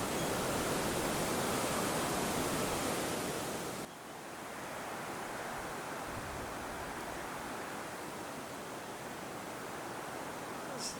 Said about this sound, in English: So this is the Ebor Falls